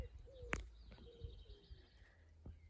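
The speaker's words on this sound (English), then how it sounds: "Do you hear the birds? Isn't it lovely?" Faint birdsong outdoors: a few scattered chirps and a soft cooing call over quiet background rumble.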